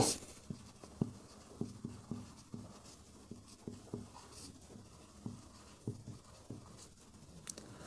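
Pen writing on paper during a Bengali math lesson on ratio, proportion and series, with a string of quick scratchy strokes and taps in a regular rhythm, close and fairly quiet.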